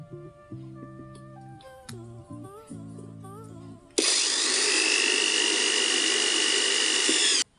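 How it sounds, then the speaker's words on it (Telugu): An ibell electric screwdriver drives a screw into wood, with a steady, loud motor whine that starts abruptly and runs unbroken for several seconds after some quieter handling ticks and clicks. "ఇప్పుడు ఒక వుడ్ మీద అయితే ఈ స్క్రూని అయితే వేసుకుందాం"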